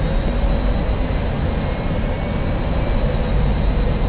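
An airliner in the X-Plane flight simulator making an automatic autoland approach, heard as a steady, loud jet engine roar with a deep low rumble that holds even and unbroken throughout.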